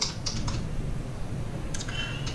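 Typing on a computer keyboard while entering a mysqldump command in a command prompt, producing scattered light key clicks with short bursts over a steady low background hum.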